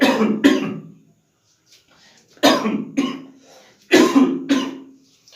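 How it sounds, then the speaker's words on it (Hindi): Several loud, close coughs in a few bursts, one harsh hack after another, separated by short quiet pauses with faint breathing. "थोड़ी सी तबीयत खराब है इसलिए खांसी हो गया है"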